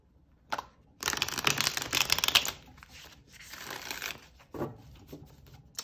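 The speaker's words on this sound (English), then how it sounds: "Let's do another really good shuffle." Crisp riffling bursts of tarot cards being shuffled, a few rapid flurries with short pauses between them, close and fairly loud.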